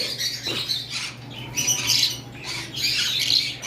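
Pet lutino red-eye birds squawk in harsh, repeated bursts, several close calls spread across the clip over a low steady hum, with no speech.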